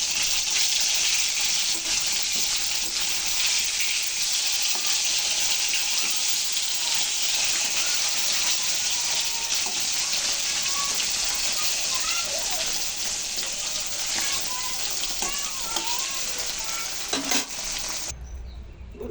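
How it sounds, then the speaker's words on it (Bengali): Small puti fish frying in hot oil in a karahi while being flipped over: a dense, steady sizzle runs loud and close throughout, with light scraping and stirring clatter now and then before it cuts off abruptly. "এই তেলের ভিতরে আমি বাকি মাছগুলো নিচ্ছি মাছগুলো উল্টে দিচ্ছি"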